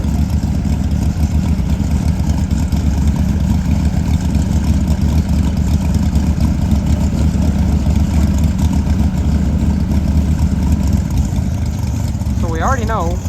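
Drag racing cars with engines idling at London Dragway during an Outlaw Promods event, a loud, steady low rumble throughout, with a brief rising whine near the end and talk over the engines.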